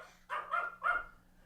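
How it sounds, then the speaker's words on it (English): Dogs bark three times in quick succession, fairly close and moderately loud, against a low steady hum indoors during a live stock-trading stream. "sorry about my dogs"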